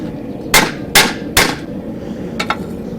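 Hammer strikes on a chisel cutting through hot mild steel clamped to an anvil: three loud, evenly spaced metallic blows, then two lighter taps, close and unaccompanied by speech.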